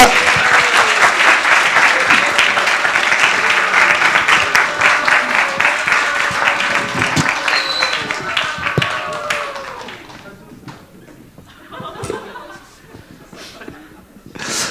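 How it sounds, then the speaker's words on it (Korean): Church congregation clapping loudly to welcome a pastor at a high school Sunday service, dense steady applause with some laughter that fades out after about ten seconds, leaving scattered claps and a quiet room. "구세영 목사님 나오실 때 큰 박수로 환영으로 인사해 주셨으면 좋겠습니다"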